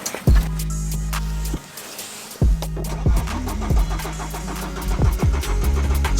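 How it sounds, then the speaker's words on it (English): A car engine cranks and catches after a fuel system service using an eBay service kit, running with a steady idle hum, cutting out briefly, then restarting and revving unevenly with clicks and knocks nearby. "Now we tried to start the car."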